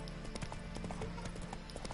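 Roach, a horse in The Witcher 3, trots along with a steady, even clip-clop of hooves that carries through the whole stretch at close range.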